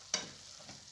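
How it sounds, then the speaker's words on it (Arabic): Bolognese sauce with a little soy sauce is stirred in a pan, giving one quick, close scrape over a faint sizzle, brief and alone with no voices. "ونحرك."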